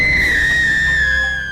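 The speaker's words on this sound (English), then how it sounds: "Hey, you scream just like he did." A character in the video game Perseverance lets out a long, loud, sustained high scream that holds steady and then cuts off abruptly, with no talk over it.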